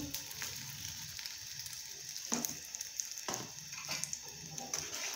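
Beaten eggs cook in hot ghee for egg halwa, a steady soft sizzle broken by a few scraping stirs across the pan, with no talking.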